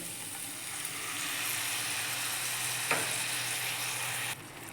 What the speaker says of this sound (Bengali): এখন এই সবগুলোকে আমি একটু ভেজে নেব।